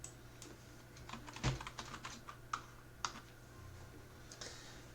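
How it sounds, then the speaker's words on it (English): Keys on a computer keyboard are tapped in a short, irregular burst of about half a dozen crisp clicks while working in Hatch 3 embroidery software, close up in a quiet room with a low hum behind. "type in white"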